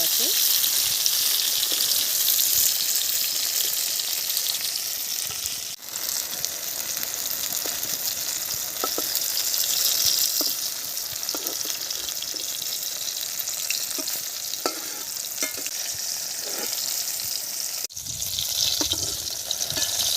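Slices of black eggplant frying in oil in a kadai, a loud continuous sizzle with scattered crackles and stirring scrapes over a long stretch.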